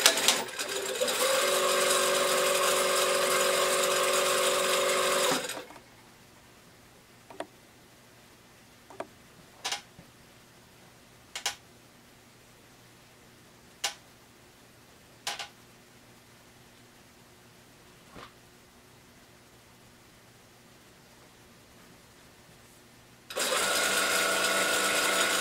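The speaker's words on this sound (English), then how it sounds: "We're going to sew it 5/8 of an inch." A sewing machine stitches a fabric seam for a jacket with a loud, steady mechanical whir that stops for a long pause full of scattered clicks and taps, then starts up again.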